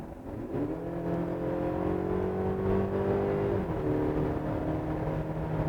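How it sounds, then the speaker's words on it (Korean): Engine note from a Mercedes GLC Coupe AMG Line in sport mode with synthesized virtual engine sound, rising as the car accelerates and then holding a steady, smooth drone with a brief shift partway through, continuous and fairly close with no talking. "요즘 신차들 보면은 가상 엔진 사운드 들어간 차량들이 많습니다"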